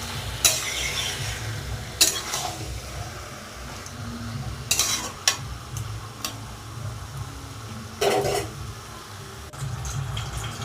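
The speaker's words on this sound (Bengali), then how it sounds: "তো ভালো করে নাড়াচাড়া করে নিচ্ছি" Salted meat is stirred in a frying pan, with repeated scraping and clattering strokes of the utensil over a steady low sizzle, close and fairly loud.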